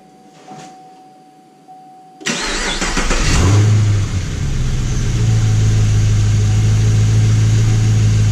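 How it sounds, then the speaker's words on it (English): A Camaro SS V8 engine fitted with a K&N cold air intake cranks and catches with a loud roar, then settles into a deep, rumbling idle that carries on steadily. "gonna give it an initial start and make sure everything sounds right."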